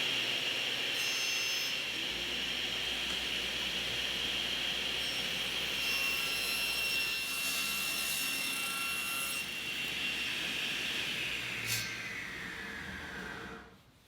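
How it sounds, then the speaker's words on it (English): A table saw tilted to 45 degrees cuts a chamfer along the underside of a wooden outdoor tabletop, a loud steady whine and rushing blade roar that holds throughout before spinning down at the end. "I'll set the table saw at a 45-degree angle and cut a slight chamfer at the bottom of the top."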